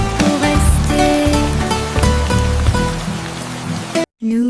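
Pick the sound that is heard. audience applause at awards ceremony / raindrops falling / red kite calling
raindrops falling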